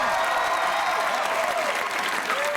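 A talk show studio audience breaks into dense, continuous applause at full strength, with a voice faintly audible beneath the clapping.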